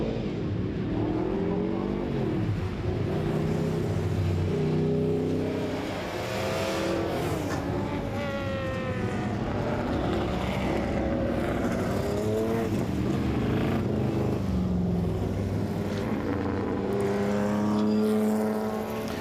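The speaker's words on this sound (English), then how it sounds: "the Group S cars rolling out on track" Group S rally race cars roll out onto the track, with several engines droning and revving in overlapping rising and falling pitches that carry on steadily at moderate distance.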